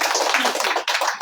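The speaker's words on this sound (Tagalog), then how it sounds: "Bigyan po natin ng the best na palakpak ang Lord." A church congregation applauds during a worship service, dense group clapping at close range that fills the whole short moment, with a brief dip before it surges again.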